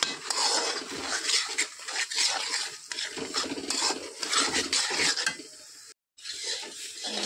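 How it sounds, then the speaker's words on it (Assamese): A spoon scrapes and stirs continuously through thick raw mango pulp in a metal pan, with clinking against the pan sides and a brief pause near the end. "এনেকৈ মই লৰাই থাকিম। লৰাই থাকিলে ধুনীয়াকৈ গলি যাব।"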